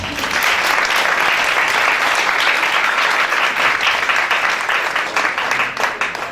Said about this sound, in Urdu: آئیے ذرا اپنے لیے بھی اب تالیاں بجا دیں.